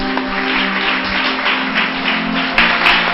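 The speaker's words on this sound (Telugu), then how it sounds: "గట్టిగా చప్పట్లు కొడదాం." A church audience claps loudly together, a dense continuous patter of many hands sustained for a few seconds, with a faint tonal hum beneath.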